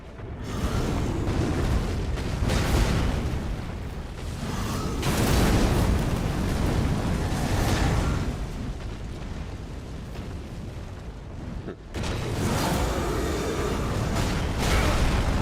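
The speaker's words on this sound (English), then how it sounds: "Oh, I forgot it has the explosion after." Rolling explosions from a boss attack in an action video game, heavy sustained booms and bursts that fill nearly the whole stretch, loud and dense, with a brief gap before the blasts resume.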